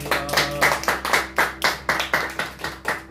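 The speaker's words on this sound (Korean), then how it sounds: "주님께 영광의 박수를 드립니다." A church congregation claps in praise during a service, a loud, even rhythm of about three to four claps per second, close and continuous with no voices.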